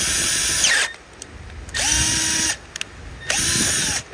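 A power drill whines in three separate bursts with pauses between, each spinning up, cutting steadily, then winding down, drilling out damaged threads in a Subaru 2.2/2.5 engine block.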